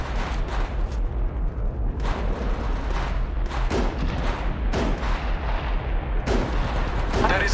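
Repeated booming gunshots and bursts of fire from an attacking squad in a shooter game, loud and dense with several sharp shots spread across the stretch.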